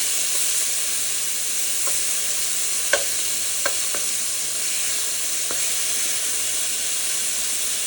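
Lemon chicken pieces sizzle steadily in a frying pan, a continuous close hiss with a few brief clinks of a utensil and no talking.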